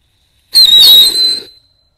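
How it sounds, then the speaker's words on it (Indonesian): Kura-kura turtle firecrackers, two lit at once in a hole in the ground, let out a single loud, high whistling hiss with a rough, spluttering edge, lasting about a second before stopping. "Selanjutnya ini ada mercon kura-kura,"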